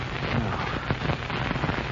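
Crackling fire effect from an old-time radio drama, flames roaring after a car crashes into a wall and its gas tank explodes, a dense steady hiss with scattered pops heard alone.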